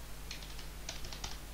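Tab key pressed repeatedly on a computer keyboard while working on a sales chart: two quick bursts of several light, crisp keystrokes, close and alone.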